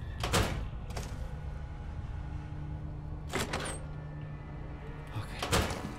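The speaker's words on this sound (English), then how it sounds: "I keep hearing doors" Doors opening and closing in Fallout: New Vegas at the Uncanny Valley Research Center, three sharp clunking bangs spaced a few seconds apart over a low steady hum, fairly close and moderately loud.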